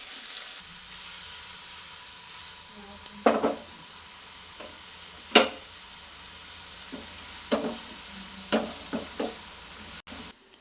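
Chopped onions sautéing in oil in a pan for aloo bonda filling, a low steady sizzle with a few sharp clinks and scrapes of stirring scattered across the clip, no voices.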